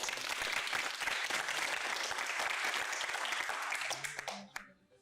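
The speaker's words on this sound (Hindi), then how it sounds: "चलो ठीक है, कम से कम आपकी ऑनेस्टी पे तालियां." An audience at an entertainment show bursts into sustained, dense applause that holds steady for several seconds, then tapers off quickly with a few last claps.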